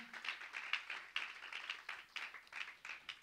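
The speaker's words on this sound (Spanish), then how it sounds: "Dale palmas al rey" A church congregation claps in a steady, fairly quick rhythm, dense overlapping hand claps continuing without talk, moderately distant and soft.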